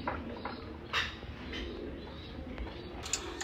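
A pair of white Maltese pigeons cooing softly in a few short, muffled calls over faint background noise and rustling.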